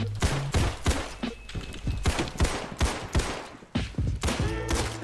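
Gunfire in the Roblox game Criminality, a string of loud, sharp shots fired one after another at an irregular pace, close by and punchy, with no talking.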